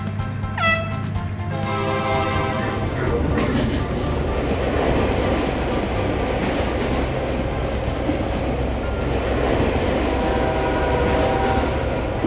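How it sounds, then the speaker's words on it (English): A train rumbling loudly along the tracks, steady rolling roar with rhythmic clatter of wheels, close and continuous. "We have slow trains like Donald, and fast trains like Benny"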